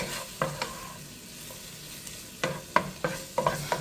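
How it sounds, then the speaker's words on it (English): A utensil stirring Italian sausage with a pinch of red pepper flakes in a pan, a quiet sizzle punctuated by several sharp scraping knocks that cluster toward the end. "And we're going to stir that around."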